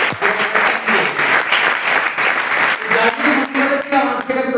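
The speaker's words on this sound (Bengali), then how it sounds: "আমি চাইবো আমার টিমের জন্য একটা জোরদার হাততালি।" An audience claps loudly in a burst of dense, sustained applause that stays strong for several seconds close to the listener, with no talking over it.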